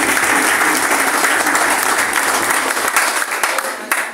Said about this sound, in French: Applaudissez tout.